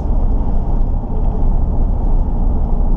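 A 1968 Dodge Charger engine runs slightly rich, giving a loud, steady, deep rumble that holds close and constant without a break and with no voices over it.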